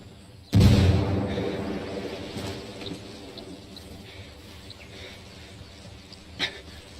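A grenade goes off in Ghost Recon Wildlands with one loud, close blast that decays into a long rumbling tail, and a faint, brief pop follows near the end.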